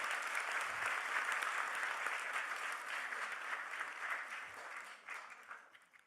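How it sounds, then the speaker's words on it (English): An audience applauding after lively performances at a Nelson Mandela birthday commemoration, dense sustained clapping from a sizable crowd that fades out toward the end. "can we have a big round of applause for all of you?"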